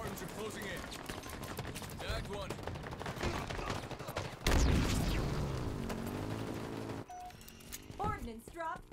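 Halo Infinite gunfire rattles in rapid, dense bursts under a player's talk, broken by a heavy boom midway and followed by quieter game effects and an announcer-like voice.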